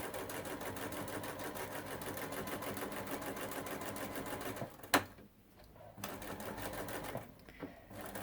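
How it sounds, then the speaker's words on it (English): A sewing machine runs steadily while stitching quilt binding, a close, continuous rapid whir for several seconds, then stops with a click; after a pause it briefly starts up again for a short burst. "start sewing at the top. Back stitch."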